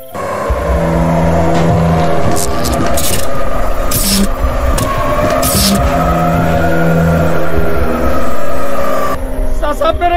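A car's engine runs in a continuous low rumble while it drives, filling the whole stretch under a tense, agitated voice.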